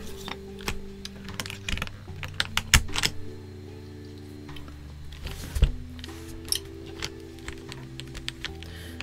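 Keystrokes on a Koorui MK082 gasket-mount mechanical keyboard with a PC plate, clattering in steady close bursts with no talk.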